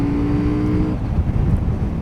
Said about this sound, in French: Mais j'adore le bruit du moteur, de la boîte à air.